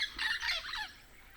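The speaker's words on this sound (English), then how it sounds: "And some parrots flying up overhead." Parrots squawk overhead in a brief harsh burst of two or three calls above farmland with banana trees in Guyana, faint and distant, with no talking.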